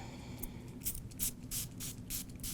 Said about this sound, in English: I'm going to take this color called Plush and spray it over the remaining area.